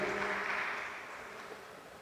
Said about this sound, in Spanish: Un aplauso para la hermanita.